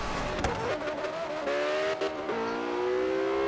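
A Porsche in the video game Forza Horizon 3 revs up, its engine note climbing steadily after a few sharp knocks, loud and close over continuous road noise.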